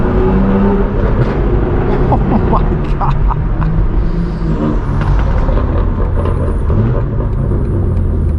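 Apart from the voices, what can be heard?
straight-piped BMW M4 G82 exhaust at a car meet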